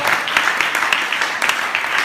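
A church congregation applauds in a dense, steady wash of clapping throughout, loud and near, with voices mixed in.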